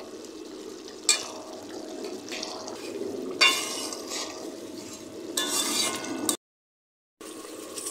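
Chili powder and garam masala for a chicken curry sautéed in a pan, close scraping and stirring over a soft sizzle, with a few sharp clinks and one brief dropout to silence near the end, no talking.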